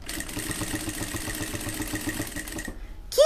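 A sewing machine stitches around a synthetic handbag in a fast, even mechanical rattle for under three seconds, then stops abruptly before a brief final sound.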